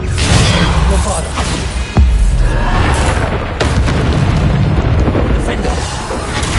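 Booming Bombarda explosion spells in the Hogwarts Legacy video game on PS5, a sharp heavy blast around two seconds and further bursts later, set in a constant dense clamor of combat effects.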